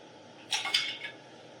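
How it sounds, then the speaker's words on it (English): Metal clamps are loosened and pulled off the frame of a 7720 chaise lounge during re-slinging: a short cluster of bright clinks and rattles close by, then quiet. "we can unclamp the chaise from the table"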